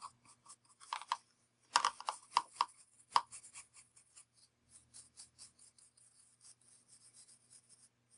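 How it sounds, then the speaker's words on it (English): A brush burnishes gold metal leaf onto watercolor paper, giving soft, irregular scratchy rubs and taps in quick clusters, close and quiet, with short pauses between strokes. "I burnish away with my brush, rub it into the surface."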